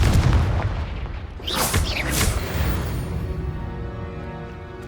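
A Confringo blasting spell detonates in the Hogwarts Legacy video game, a loud booming blast up front followed by crackling, whooshing debris and a fading low rumble, with no talking.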